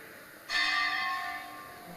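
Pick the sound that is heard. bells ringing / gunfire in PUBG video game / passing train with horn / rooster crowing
bells ringing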